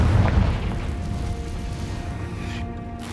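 A Confringo blasting spell explodes in the Hogwarts Legacy video game, opening with a deep booming burst that rolls into a sustained low rumble and fades over a few seconds.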